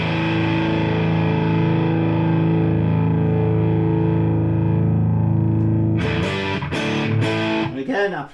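A distorted electric guitar played through an Amp Maker N5X single-ended 5-watt 6V6 amp with the tone stack in rings out as one long sustained chord, then gives a few quick choppy strums before cutting off.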